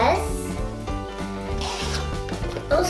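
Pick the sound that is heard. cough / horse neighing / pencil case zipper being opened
pencil case zipper being opened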